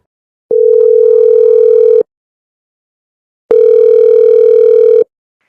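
A steady telephone dial tone sounds in two even bursts, each about a second and a half long, separated by silence and heard clearly on its own.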